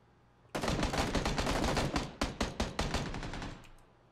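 Rapid automatic gunfire from an enemy team in PUBG, a loud, close burst of fast repeated shots lasting about three seconds with a few separate cracks near the end, then fading, no talk over it.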